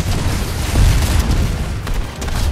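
A bomb blast goes off in Fortnite, a loud, sustained rumbling boom with heavy low-end that swells near the middle and keeps churning with crackling bursts throughout.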